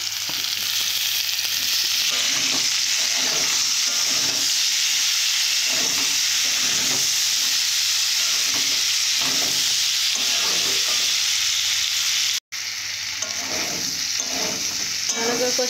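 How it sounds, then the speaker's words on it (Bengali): Potatoes and kohlrabi sizzle loudly as they are stir-fried in a pan, a dense steady frying hiss with rhythmic scraping of the spatula stirring through, briefly cut off near the end. "এইভাবে কিছুক্ষণের জন্য কষে নেবে আপনারা।"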